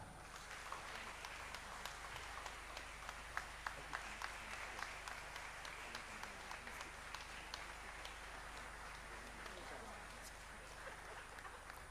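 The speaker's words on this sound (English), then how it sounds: "Until they are done, please let's clap." Audience at a pharmacy school white coat ceremony claps steadily and faintly throughout, a distant continuous patter of many hands with occasional sharper individual claps.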